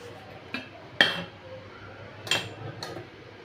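A metal cooking pan set down on a lit stove for a village-style country chicken and drumstick curry, a few clinks and knocks spaced through a quiet room.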